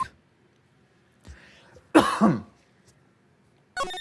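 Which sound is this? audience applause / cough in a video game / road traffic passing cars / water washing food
cough in a video game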